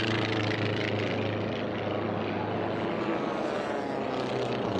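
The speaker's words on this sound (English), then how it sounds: "Right side now you see several aircraft as they are trailing" Formula One class propeller racing planes rounding pylons in an air race produce a steady buzzing engine drone that stays fairly loud and continuous across the whole stretch.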